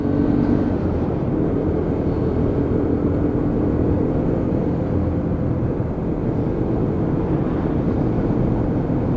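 A Lexmoto Venom motorcycle is ridden along, making a loud, steady, continuous engine drone mixed with road and wind rumble and no talk.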